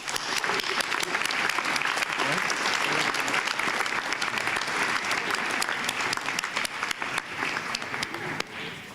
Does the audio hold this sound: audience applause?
yes